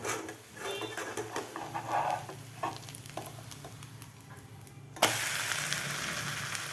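A jowar flour snack cooks on a hot pan with a steady sizzle and scraping stirs, then a louder, brighter burst of frying as it is flipped, continuing close and even.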